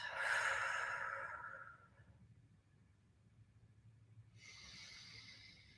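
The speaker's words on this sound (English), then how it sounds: "Let's close out this session with 3 deep breaths." A slow, deep breath: a long breathy exhale fading out, a quiet pause, then a softer drawn-in inhale near the end, close and alone.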